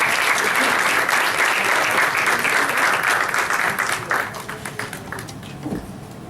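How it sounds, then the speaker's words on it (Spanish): At an academic colloquium, a hall audience gives strong sustained applause, a thick wash of many hands that carries on loudly and then thins out toward the end. "brindemos un fuerte aplauso también a la profesora"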